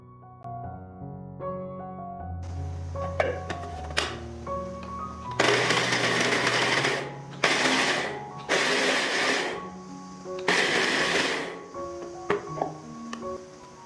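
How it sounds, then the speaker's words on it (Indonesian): A food chopper coarsely chopping onion, with several loud whirring bursts of the motor separated by short pauses, plus light clatter between runs. "Selanjutnya aku mau cincang kasar bawang bombaynya tapi pakai alat chopper."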